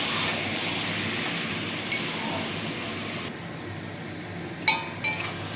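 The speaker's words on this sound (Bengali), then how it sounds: "মশলাটা আমার কষানো হয়ে গেছে।" Spice masala being stir-fried in a pan for mutton curry, a soft steady sizzle with faint scraping, then a couple of sharp metallic clinks from a spoon against the pan near the end.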